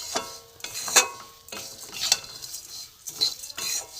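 Semolina vermicelli being worked together with sugar and milk powder, a few distinct scraping and stirring strokes spaced about a second apart, close and fairly soft, with no voices.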